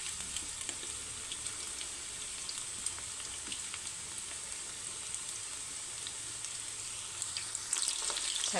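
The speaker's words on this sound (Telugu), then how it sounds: "గోల్డెన్ కలర్ వచ్చే వరకు వేగనిద్దామండి." Chicken pakoda deep-frying in hot oil until golden, a dense, even bubbling sizzle heard up close with fine crackles throughout and a slightly brighter burst near the end.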